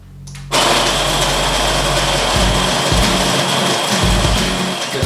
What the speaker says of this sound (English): Iris, can you push the button on the grinder, please?